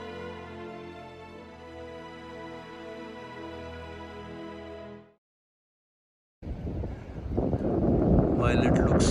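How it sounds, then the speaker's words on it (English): Strong wind roars across an outdoor microphone high on the Everest Base Camp trek at 4,136 m, on a cold, sunny day. A steady tonal passage comes first, then a short silence, then several seconds of loud, rough gusting. "while it looks sunny over here, it is very windy and very cold"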